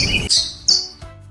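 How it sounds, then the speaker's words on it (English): A bat gives a few sharp high-pitched squeaks and chirps, three quick calls in close succession, loud and alone. "It's a bat."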